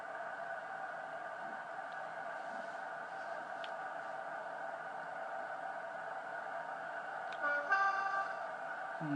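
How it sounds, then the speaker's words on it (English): A train horn sounds in a railway simulator game at a level crossing, a steady sustained tone running through most of the stretch with a brief louder burst near the end, heard alone without talk. "Honk the horn for the crossing."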